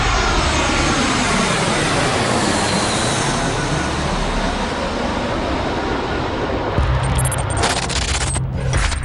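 A passenger plane roars at full power as it takes off, a loud, sustained engine drone with a sweeping whine shifting in pitch, steady from start to finish.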